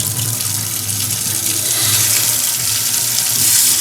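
Water runs steadily from a newly installed kitchen faucet into the sink, a loud, continuous hiss and splash with no voices.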